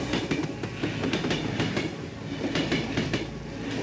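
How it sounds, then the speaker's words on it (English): Train passing in the horror video game Cry of Fear, a loud close rumble with rhythmic clickety-clack of wheels over rail joints, continuous throughout with no talk. "That's the S train."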